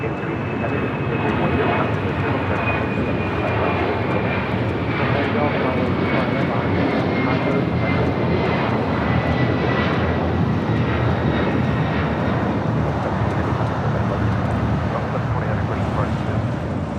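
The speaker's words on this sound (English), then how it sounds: "Lined up ready to go on 25 right is the China Airlines Cargo 777." A China Airlines Cargo Boeing 777 departs runway 25 right at LAX with a powerful, sustained jet roar and a faint rising whine over it, loud and steady throughout.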